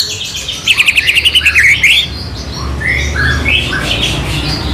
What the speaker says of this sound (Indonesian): Karena di sini juga banyak burung master aja sih ya